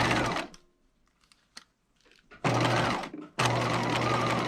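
A sewing machine stitching a dress seam at 5/8 inch, running in loud continuous whirring bursts separated by a quiet pause with faint clicks and fabric handling, as the stitch is backstitched and then sewn forward.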